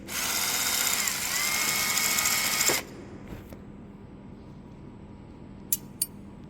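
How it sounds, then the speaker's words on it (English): A drill machine faces the end of a metal tube ahead of orbital welding, a loud steady whirring grind for about three seconds that cuts off abruptly, followed by quiet and two short metallic clicks. "By using this drill machine and facing, you can make a facing."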